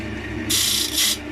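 A hand scraper rasps across spalted beech on a lathe in two quick, bright strokes, close and alone.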